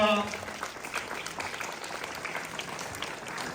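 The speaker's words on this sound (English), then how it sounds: "So please give huge round of applause to" Audience applause at a school investiture ceremony, a steady wash of many hands clapping in a hall after a brief voice at the start, holding at moderate level for several seconds.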